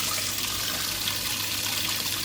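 Water drains from a Simpson Enduro 701 washing machine during a double deep rinse, pouring out onto a garden as a steady, loud hiss-like rush with no pauses.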